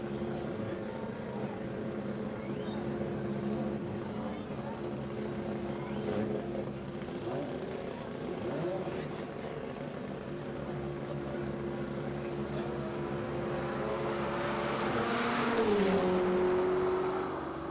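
A race car on a top speed run approaches from a distance over a faint background drone, then sweeps past loudly near the end with a falling pitch as it passes.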